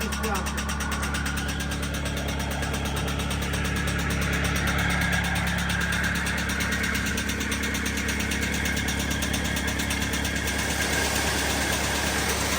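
A concrete mixer runs on a village yard, its motor droning steadily with a continuous low vibrating hum and rattling drum, loud and near, while people talk over it.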